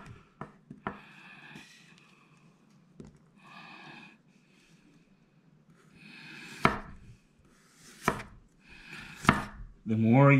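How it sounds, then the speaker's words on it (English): A kitchen knife chops through food on a cutting board, cutting thin eighth-inch rounds: a few sharp knocks early, several louder chops later, then a brief rising squeak at the end, with quiet hiss between strokes. "The more you slide your knife, the easier it's going to be to cut."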